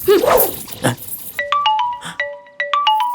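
A phone rings with a short repeating electronic melody of bright beeps after a burst of louder noise at the start, fairly close and loud, with no talking.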